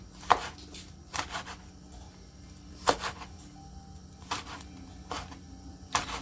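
Knife chopping chili peppers on a cutting board for a herb chicken salad, six sharp cuts landing at an uneven pace, close and fairly quiet over a low background hum.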